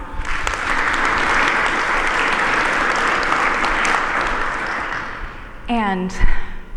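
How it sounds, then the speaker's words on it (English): Loud applause from a conference audience after a talk fills most of the clip, steady and sustained, then fades as a voice begins speaking near the end. "Can we all give them a round of applause?"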